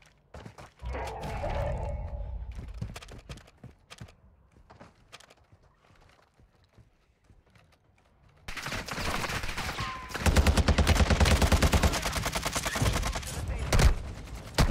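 Gunfire from an RPK light machine gun in Warzone 2 on Ashika Island: a scattered burst early, then sustained rapid automatic fire in the latter half, loud and close, with a player speaking briefly.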